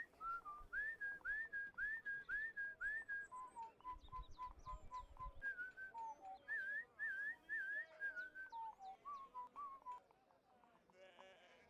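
In the video game Warsim, a traveling bard whistles an old gnomish tune: clear, close melodic phrases with little slides, carried over a continuous game ambience that fades out near the end.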